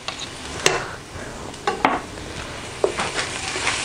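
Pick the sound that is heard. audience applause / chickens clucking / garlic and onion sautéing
garlic and onion sautéing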